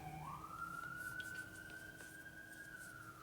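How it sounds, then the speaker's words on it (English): A fire engine siren passes at a distance, one long rising then level wail, faint beneath a quiet background hum. "Sounds like a fire engine going by too."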